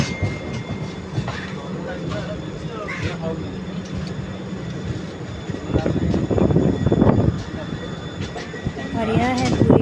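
A steady rumble of a moving train arriving at Puri railway station fills the scene, with rattling and clatter, while people talk over it.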